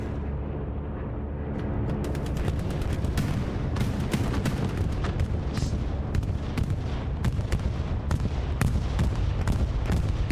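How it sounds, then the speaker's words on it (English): An Axis bombing run in a multiplayer war game, a dense roar of rumbling blasts and crackling impacts that builds and stays loud, with rapid sharp bursts layered throughout. "As we see a bombing run coming in for the Axis forces."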